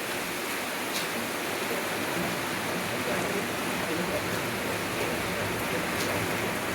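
Steady rain pours down on an outdoor street where delivery workers carry food, a continuous hiss of falling water with no breaks, fairly loud and close.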